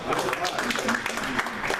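A network marketing event audience gives a round of applause, with a dense spatter of clapping mixed with voices and crowd murmur throughout the brief moment.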